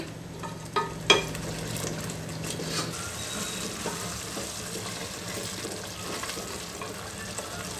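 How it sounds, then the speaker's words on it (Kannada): Byadagi chilli paste frying in oil for a methi paneer gravy, a low steady sizzle up close, with a couple of sharp knocks from a utensil near the start. "ಎಣ್ಣೆಯಲ್ಲಿ ಸ್ವಲ್ಪ ಫ್ರೈ ಆಗಲಿ"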